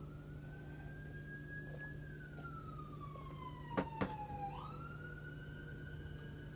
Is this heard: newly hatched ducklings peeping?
no